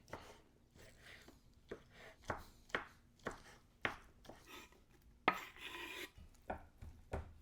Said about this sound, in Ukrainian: Ріжемо їх на дрібні такі шматочки.